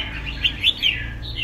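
A caged songbird with thin plumage, perched firmly, gives a few short, bright chirps in quick succession, close and fairly clear over a low steady background hum.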